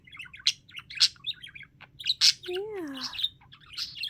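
A pet budgie, or parakeet, chatters close by in bursts of quick chirps, warbles and squeaky notes with short pauses, and a person says a single word partway through.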